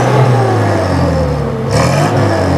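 A Suzuki Sidekick Drag-1 (2000) car engine revs loudly up close, its roar swelling and easing, with no voices.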